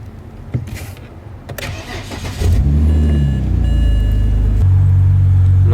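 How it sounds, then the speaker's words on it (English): A BMW car engine starts: a couple of clicks and a brief cranking whine, then the engine catches into a loud, steady low idle rumble that holds to the end. "Maybe I have to turn on the car."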